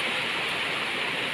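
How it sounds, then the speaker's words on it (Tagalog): Rain falls steadily, heard from a terrace as an even hiss with no breaks and no voices. "Umuulan po siya."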